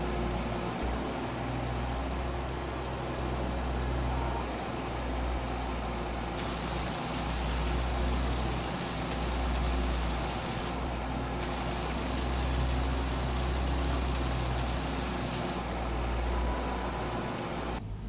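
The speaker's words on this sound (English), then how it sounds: "stump grinding is a lot of fun here. It is a lot of RPMs on the engine gets used here for it" A stump grinder engine in Farming Simulator 22, chewing out the stump of a storm-felled tree beside a garage, drones at steady high revs with a constant broadband roar and low hum, loud and unbroken throughout.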